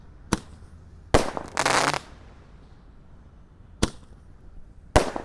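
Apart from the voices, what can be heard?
Magic Snack 19-shot Roman candle fireworks firing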